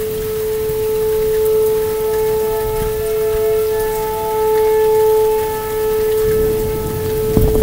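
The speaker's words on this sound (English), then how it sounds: "I can hear two different sets of sirens." Steady outdoor warning sirens wail continuously during a severe thunderstorm with tornado warnings in effect, accompanied by constant heavy rain noise, with a second tone layered in.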